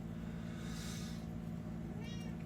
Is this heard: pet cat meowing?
yes